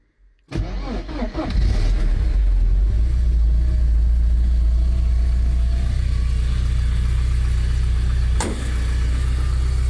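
A Porsche 944 cranks briefly after a click, catches and settles into a loud, steady idle close to the microphone, with a short sharp knock near the end.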